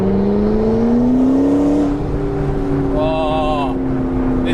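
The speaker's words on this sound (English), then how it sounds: "you hear the wind, you hear the exhaust, you hear the turbo" A McLaren 650S Spider is driven with its turbocharged engine droning steadily through the exhaust, its pitch sliding upward and then settling, with a brief higher whine partway through and wind noise throughout.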